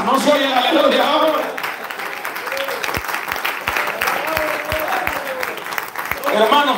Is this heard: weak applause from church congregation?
yes